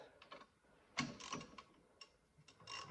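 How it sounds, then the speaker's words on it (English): A ratchet cracks loose Allen key bolts on a Ford Kuga's rear brake caliper, with a few faint clicks and clunks heard close by in a quiet space. "So I just crack them off with a ratchet"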